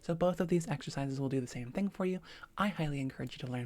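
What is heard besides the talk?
No distinct noise like a dog, phone or traffic.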